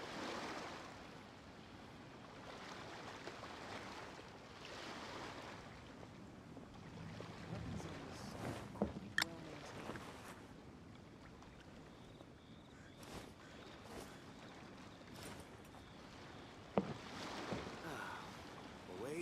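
Calm ocean waves wash softly and steadily in the Genshin Impact video game, a broad continuous surf with a few faint sharp clicks from the game scattered over it.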